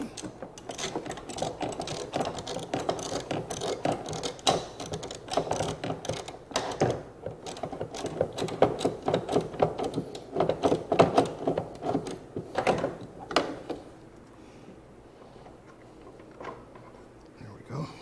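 A ratchet rapidly clicks while unscrewing a bolt during engine removal from a GM 3.6L SUV, bursts of close mechanical ratcheting that trail off near the end, with a voice speaking in between.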